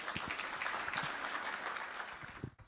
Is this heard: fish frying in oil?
no